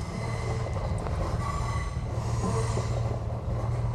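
A train rolls past loudly and close near Lake Como, Italy, with a continuous rumble of wheels on track and occasional metallic squeals.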